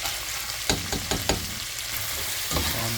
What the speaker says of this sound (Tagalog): Pag medyo nagisa na ng konti yung ating mga buto-buto